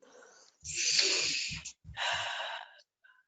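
A deep, close breath taken during a guided forgiveness session: a long rushing inhale followed by a slower exhale, breathy and fairly loud, with faint low voicing beneath it.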